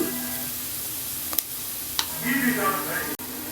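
Spice masala frying in a pan for halwai-style moong dal kachori gives a steady close sizzle, with a couple of quick clicks and a brief stirring scrape toward the end.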